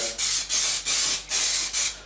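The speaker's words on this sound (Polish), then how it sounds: "W moim przypadku e, właśnie taki tłuszcz w sprayu można masłem wysmarować" Cooking fat spray greasing a roasting tin in a kitchen: five short, loud hissing bursts in quick, even rhythm, each a sharp spritz, close to the listener with no talking.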